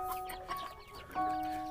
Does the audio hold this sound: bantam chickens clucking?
yes